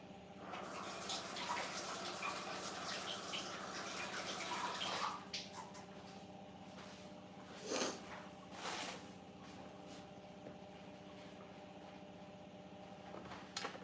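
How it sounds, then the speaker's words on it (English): Tap water running into a sink while hands are washed in a home kitchen, a steady soft rush with splashy bursts and a few louder splashes, faint and fairly close, with no talking. "wash my hands."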